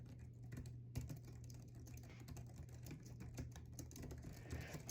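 Quiet, steady typing on a Logitech MK470 keyboard, a soft patter of key presses at close range in a home setting over a low constant hum, with no voices.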